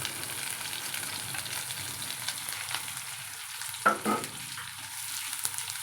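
Onion and green chili sautéing in a pan, a close, steady sizzle with a couple of brief stirring clatters near the end, no talk.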